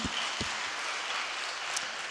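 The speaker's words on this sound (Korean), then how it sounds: "그 놀라운 회복을 주신 하나님 앞에 우리 영광의 박수 올려드리겠습니다" Congregation applauding during a Korean church worship service, soft, steady clapping heard from a distance at an even level throughout.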